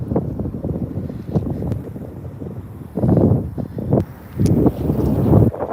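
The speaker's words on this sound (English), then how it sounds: "It's pretty regular wind. It probably sounds pretty crazy, though." Outdoors by the water while fishing, regular wind buffets the microphone in a constant low, rumbling roar that swells into louder gusts, close and heavy, with no voices.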